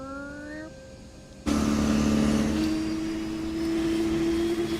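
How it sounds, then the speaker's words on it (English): APU starting up on a PMDG 737 in Microsoft Flight Simulator 2020: a rising whine climbs and cuts off, then a loud steady turbine hum with a sustained tone takes over and holds. "We're going to go ahead and start the APU control system."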